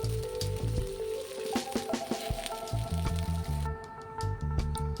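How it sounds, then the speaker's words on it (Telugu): Fish coated in Telangana-style salt and chilli frying on a flat pan, sizzling steadily and close with soft crackles and spatters throughout. "ఈ విధంగా పెనం పైన నేను ఫ్రై చేశాను"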